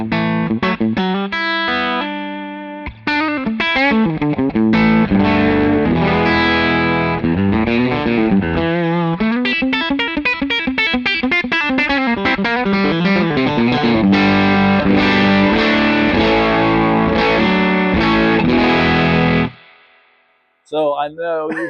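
Electric guitar plays through an LPD Pedals Head-On Boost into a Victory MK amp, giving loud, driven chords and lines for about nineteen seconds. After a brief pause, a few more notes ring out.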